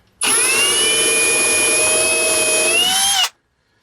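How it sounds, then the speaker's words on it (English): A cordless drill with a self-centering bit whines steadily for about three seconds while pre-drilling lightweight plywood in a campervan conversion. The sound is close and loud, then stops abruptly. "we'll go use a self-centering drill bit to get our hole there and sink a screw"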